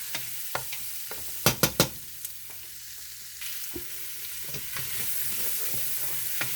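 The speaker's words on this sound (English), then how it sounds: "You don't want to burn the garlic. So just caramelize it a little bit, guys." Garlic caramelizing with onion in a pan for black-eyed peas with pork shank, a soft continuous sizzle broken by a few sharp scraping stirs near the start, close and fairly quiet with no voices.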